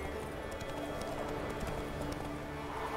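Roach, the horse in The Witcher 3 on Nintendo Switch, gallops with a dense, continuous rumble of hoofbeats under a broad noisy game soundscape, steady and close for a few seconds.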